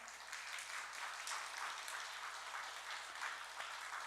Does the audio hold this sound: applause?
yes